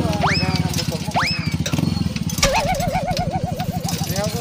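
A restored motorcycle's engine idles with a steady low, pulsing throb, fairly loud and close, while a voice talks and makes short rising sounds over it.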